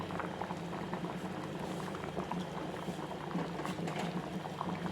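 Masala dal bubbling steadily in a pot, a dense, continuous simmering burble with soft popping, close and even throughout, no voices.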